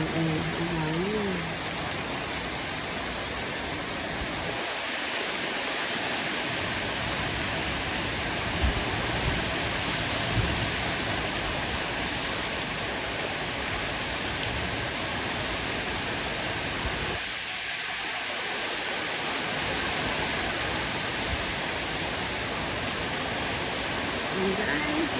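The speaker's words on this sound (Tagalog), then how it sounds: "Sobrang lakas po ng hangin at saka ulan guys." Heavy rain pours in a dense, unbroken roar with strong wind, steady and loud throughout, with a voice talking briefly under it.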